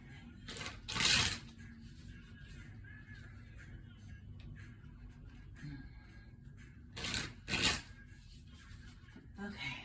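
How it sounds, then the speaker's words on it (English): Two bursts of tarot cards being shuffled, riffling briskly near the start and again later, with quiet handling sounds between. "I'll do a couple more shuffles here."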